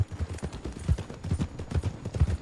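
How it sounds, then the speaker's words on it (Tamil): Horse hooves clip-clop in a steady, uneven rhythm of low thuds, fairly close and moderately loud, with no voices over them. "இந்த இடத்துல தான் குதிரை"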